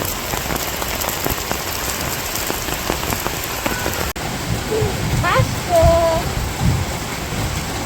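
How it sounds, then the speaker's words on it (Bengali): Steady broadband hiss of rain falling on surfaces at a cattle market in Bangladesh, with a few faint tonal calls and light rustles in the background. "এই যে এদিকে বৃষ্টি প্রায় অনেকটাই কমে গেছে"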